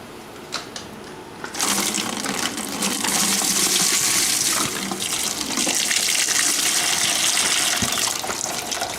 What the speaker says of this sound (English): I need to pull my radiator cap off so it'll drain.